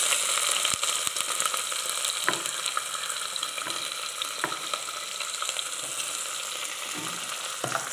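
Onions sautéing in a pan for veg biryani, a continuous bright sizzle with sharp spatula clicks and scrapes at irregular intervals, close and alone.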